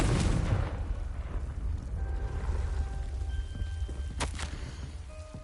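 A Confringo fire-blast spell goes off in Hogwarts Legacy, a loud booming burst up front that rolls into a crackling, rumbling tail, with a sharp second crack near the end.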